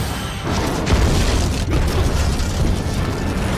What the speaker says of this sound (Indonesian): ledakan besar terjadi